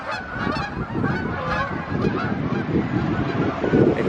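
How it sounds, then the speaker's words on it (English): A flock of geese flying in a V formation honks repeatedly overhead, a chorus of overlapping nasal calls that stays fairly loud and steady throughout. "Look at the geese."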